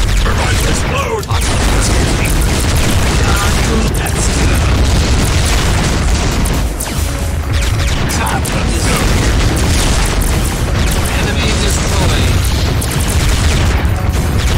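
A turbine explodes in the space strategy game Imperium Galactica 2, a loud, dense roaring blast that fills the whole stretch with sustained booming and crackling bursts, with speech faintly present.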